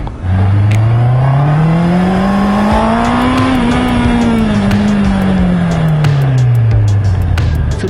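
Honda CB650R motorcycle engine revving up and then easing back down, a loud, smooth rising and falling whine held close for about eight seconds, with faint clicking and no talk.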